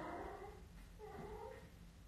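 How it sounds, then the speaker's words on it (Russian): A domestic cat purring and giving a couple of soft meows, faint and close, in two short bursts over a quiet indoor background. "Я так кошку показать вышел."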